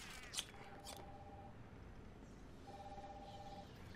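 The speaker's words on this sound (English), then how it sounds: "Somebody want to answer the phone?" A telephone rings in the video game Arkham Asylum, giving two faint, brief electronic trills a second apart amid a low background rumble, with a small click near the start.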